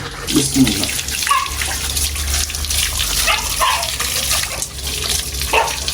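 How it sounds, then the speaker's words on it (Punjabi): Fresh water from a motor pump gushes in a steady, loud stream while a dog is bathed, with a person talking over the running water throughout. "ਮੋਟਰ ਚਲਾਈਏ ਤਾਜ਼ਾ ਪਾਣੀ ਵੇਖੋ ਪੈਪ ਦਾ ਚੱਲ ਰਿਹਾ ਜੀ"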